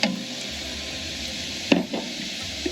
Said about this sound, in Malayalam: ഈ സവോള ഞാൻ ഒരു 6 മിനിറ്റോളം വഴറ്റിയിട്ടുണ്ട്.